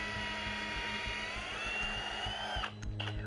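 A power drill bit bores down through roof wood into a stud to attach a lag bolt. The motor gives a continuous mid-level whine that shifts in pitch and briefly falters near the end.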